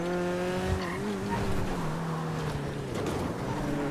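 Slow car driven in GTA 5, a steady engine drone with gliding pitch that dips and rises through gear and throttle changes, mixed with tire noise, continuous and fairly close.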